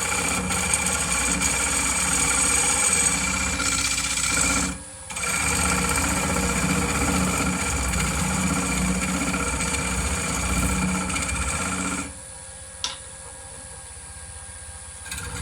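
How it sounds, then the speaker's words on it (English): A wood lathe hums steadily and loudly while a bowl turns and a parting tool makes light cuts. The drone drops out briefly twice, then carries on with a low rumbling whir. "we're just going to do some light cuts in with a parting tool to make that mortar"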